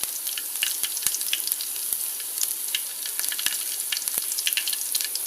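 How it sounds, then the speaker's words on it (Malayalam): Mustard seeds sizzle and pop in hot oil for a pickle, a dense crackling hiss with sharp scattered pops throughout, close and loud, no talking. "അപ്പോൾ ഞാൻ അതിൻ്റെ കൂട്ടത്തിൽ തന്നെ കടുകും കൂടെ ഇട്ട് കൊടുക്കുവാണ്."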